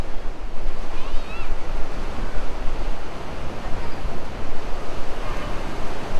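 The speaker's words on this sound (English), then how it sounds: "The water is pretty loud out here, but I'm right above the hot spring" Loud river water roars near a steaming hot spring in Kasol, a constant heavy rushing with wind buffeting the microphone in uneven gusts throughout.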